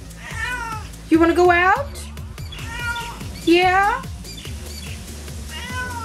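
A pet cat meows twice, loud and close, with drawn-out rising and falling calls, while someone talks softly to it before, between and after the meows.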